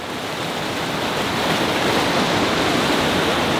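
Creek water rushes loudly and steadily through a natural rock chute on a hike, a dense, continuous roar of white water that swells slightly midway and stays close and unbroken, with no voices.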